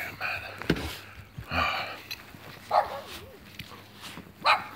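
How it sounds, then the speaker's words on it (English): A neighbour's dog barks on a snowy Finnish morning, giving several short, separate barks that sound somewhat distant and moderately loud, with quiet gaps between them and no talking. "that's my neighbor's annoying fucking dog every morning. Barks non-stop."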